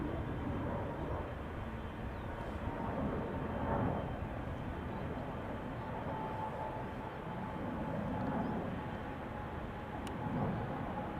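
A KLM airliner departing Schiphol airport gives a steady, distant broadband roar of jet engines that holds for the whole stretch, with no talk over it.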